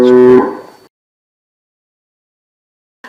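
A single loud, close moo from cattle on a farm lasts under a second, followed by silence and a brief start of another sound at the end.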